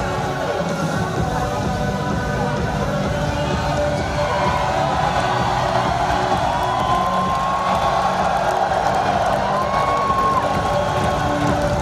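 A basketball arena crowd at a Ginebra versus New Taipei Kings game roars and cheers during a timeout while players wave to the fans. The noise is a loud, steady wall of shouting and whooping with no letup, and a few distinct whistles rise above it.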